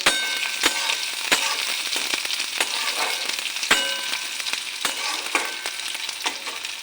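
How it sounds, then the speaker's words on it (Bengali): Chopped onion sizzles steadily in a hot pan, with a constant crackling hiss broken by sharp spatters and the occasional stir, close and fairly loud throughout. "পেঁয়াজটা লাল লাল করে ভাজা করে নিই"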